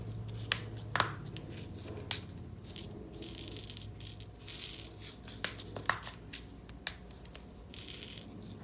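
Small crystals sprinkled into a shaker card, a scattering of light dry rattles and ticks in irregular bursts, quiet and close with no talk.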